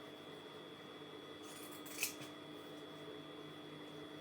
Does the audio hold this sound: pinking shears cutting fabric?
yes